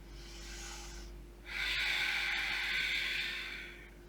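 Two slow, audible breaths during a Vinyasa yoga session, a softer inhale followed by a longer, stronger airy exhale, close to the microphone over a low steady hum.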